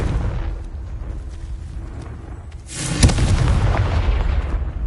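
A Confringo blasting curse goes off in the Hogwarts Legacy video game as a sudden loud explosive boom that rolls on into a rumbling, crackling aftermath.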